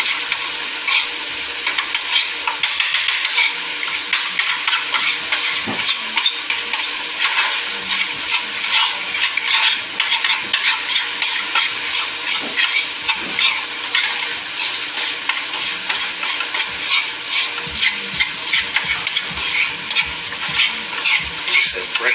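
French fries frying in hot oil, with a dense, continuous sizzle and occasional stirring scrapes, loud and close throughout.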